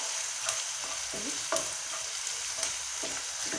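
Onion fries in a pan while cooking golachi bhaji, a constant close sizzle with occasional stirring knocks and scrapes at roughly one-second intervals, no voices.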